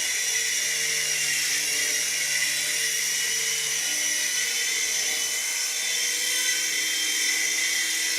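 Small XVB 2CH infrared toy RC helicopter in flight, a steady high-pitched whirring buzz of tiny motor and rotor held close and unbroken throughout.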